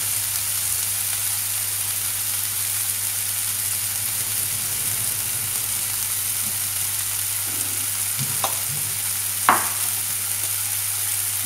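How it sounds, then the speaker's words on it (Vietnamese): Minced pork sizzles and fries steadily in a hot pan while being stirred until fragrant, with a continuous bright crackle, an underlying hum, and a couple of sharp spatula scrapes near the end. "Đảo cho nó thơm lên nhé"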